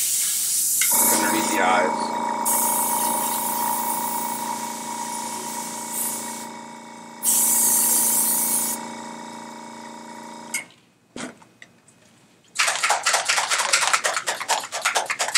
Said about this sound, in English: It's just the airbrush helps get into places that you normally couldn't.